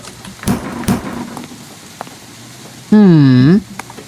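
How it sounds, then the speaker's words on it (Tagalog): Steady rain with a couple of sharp thunder-like cracks near the start, heard at night from inside a cheap rented apartment, followed by a loud, wavering tonal wail late in the clip; no one speaks. "May bagyo ba?"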